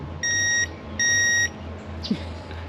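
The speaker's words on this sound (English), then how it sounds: "beep the horn as you're going around" Two electronic beeps from a folding electric scooter's horn, the first short and the second a bit longer, loud and close, with quiet background hum between.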